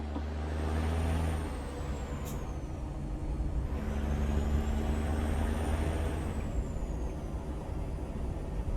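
A heavy truck in American Truck Simulator drones with a low, steady engine rumble, joined by a sharp air-brake hiss and louder road and outside noise once the window is open.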